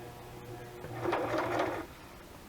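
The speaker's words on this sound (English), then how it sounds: "I'm just going to kind of flip it and kind of stitch around it" A sewing machine stitches through a decorated paper journal, a brief quiet mechanical whir of rapid stitching for under a second amid a soft room hum.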